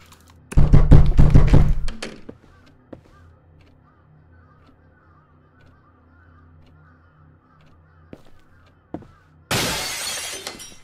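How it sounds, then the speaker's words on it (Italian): Glass shattering in the horror video game Akai Onna, a loud crash with scattered falling shards over a low ambient hum, then quiet with a few isolated ticks before another burst of harsh crunching noise near the end. "presenti il rumore del vetro rotto, la porta si apre"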